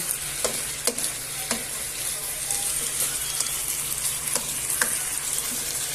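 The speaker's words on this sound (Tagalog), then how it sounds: "Gisa lang natin" Food sautéing in oil in a pan for a home-cooked dish later finished in a pressure cooker, a steady close sizzle with a few sharp clinks and stirring scrapes spread across the clip.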